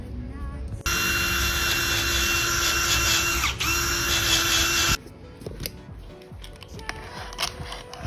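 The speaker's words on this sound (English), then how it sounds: "in order to distress soft wood like pine, I'm gonna use this hammer and a razor blade" Pine softwood is distressed with a hammer and razor blade. A loud, steady grinding scrape runs for about four seconds and then stops, leaving lighter tapping and knocking.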